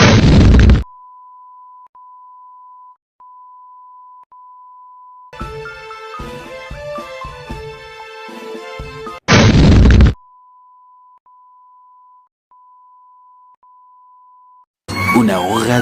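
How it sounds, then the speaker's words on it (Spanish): Cartoon explosion from a Plants vs Zombies animated episode, two short loud bursts with a layered musical blast between them, broken up by a steady beeping tone. "¿Qué tan fuerte quieres que sea la explosión?"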